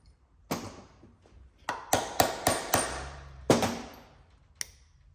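A hammer drives a cap into a SAAB brake part with sharp metallic strikes, about eight irregular close blows, some in quick pairs, with a short pause before the last.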